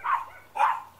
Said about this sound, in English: That's what happens when you got five dogs out here.